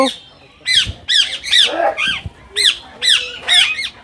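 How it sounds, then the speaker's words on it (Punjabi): Shrill, harsh squawks of ring-necked parakeets at Chhatbir Zoo come in quick repeated bursts, several birds calling loudly and close by. "ਕਾਫੀ ਰੌਲਾ ਪਾਇਆ ਹੋਇਆ ਤੋਤਿਆਂ ਨੇ ਗਾਨੀ ਵਾਲਾ ਤੋਤਾ"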